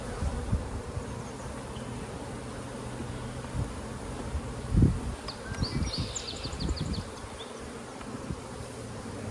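Honey bee colony humming steadily during a hive inspection outdoors, a dense close buzz with faint rustling and a few distant bird chirps.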